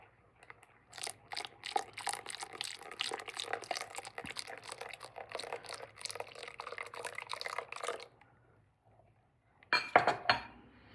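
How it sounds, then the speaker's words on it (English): Einkorn sourdough starter being stirred slowly in a bowl, producing busy clinking and scraping of a utensil against the container for about eight seconds, then a pause and a short final burst of clatter. "And I'm just gonna stir it in slowly."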